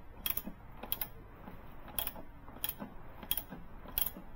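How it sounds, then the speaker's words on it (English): A spring compressor ratchets as it is tightened on a strut coil spring, giving sharp, regular metallic clicks about every second over quiet mechanical rattling, close and faint. "Gradually tighten the spring compressor, alternating between sides to ensure even compression."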